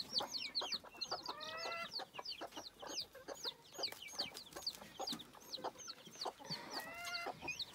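Hens and chicks clucking and peeping steadily at close range, with rapid high chirps from the chicks layered over lower, repeated hen clucks, no talking.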